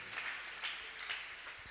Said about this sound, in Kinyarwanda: Dukomere umwami wacu amashyi.